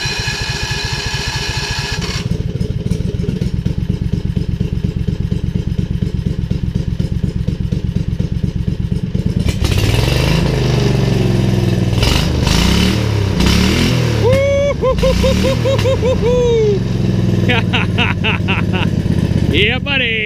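A V-twin go-kart engine with its governor being removed runs with a steady low drone, then revs up and down in loud repeated bursts close by, with people talking over it.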